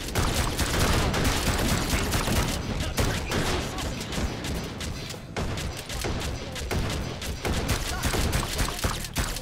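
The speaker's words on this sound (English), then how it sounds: "Ah, I'm getting shot." Sustained gunfire rakes the player in the VR shooter Hot Dogs, Horseshoes & Hand Grenades, Meat Fortress mode, a dense, loud fusillade of rapid shots and impacts running continuously for the whole stretch with no pause.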